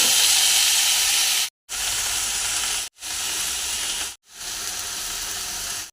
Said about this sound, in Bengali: পেঁয়াজ, রসুন, শাক দিয়ে সেদ্ধ করে নিচ্ছি।